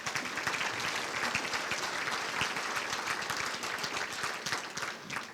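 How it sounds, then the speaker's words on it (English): A banquet crowd applauds the restaurant staff and management, many hands clapping in a sustained, slightly uneven patter with individual claps popping through, easing off a little at the end. "If we got a nice round of applause for them."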